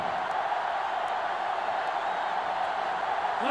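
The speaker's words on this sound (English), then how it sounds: "The sellout crowd is really making a difference now as these guys can't even call the play." Steady roar of a sellout stadium crowd in the college football game NCAA Football 09, UCF Knights against USF Bulls, a dense unbroken wash of noise with faint cheering throughout.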